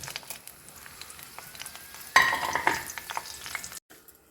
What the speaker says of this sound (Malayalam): ഇനി മുളക് വറുത്ത് പോരാം